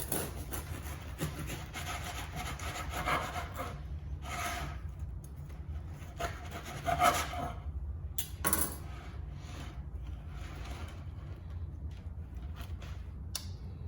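A knife saws through a crusty sourdough loaf in repeated rasping back-and-forth strokes with crackling crust, close and fairly quiet, no talking.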